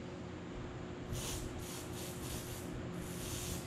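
Carburetor cleaner sprayed through a crusty Eaton Viper 70 carburetor: a continuous close hiss with several bursts of stronger spraying, no talk over it.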